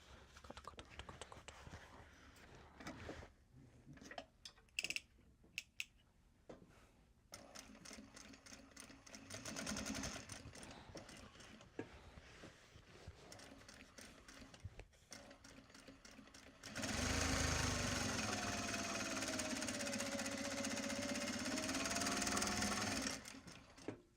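A sewing machine top stitching a Japanese fabric bag, starting with quiet handling noises and scattered clicks, then running in a sustained loud whirring burst near the end.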